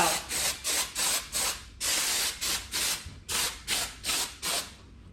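Repeated bursts of KrakenBond spray foam insulation being applied to interior walls, about a dozen short hissing sprays in a steady rhythm with brief pauses, close and fairly loud, no talking.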